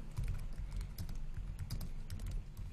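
Fast typing on a computer keyboard, a steady patter of key clicks running the whole time over a low background hum, with no voices.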